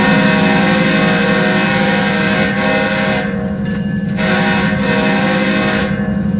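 A BNSF ES44DC diesel locomotive on the Marias Pass route in Train Simulator 2022 rumbles steadily and loudly, with a continuous engine drone and a sustained horn blast layered over the running noise, no talking.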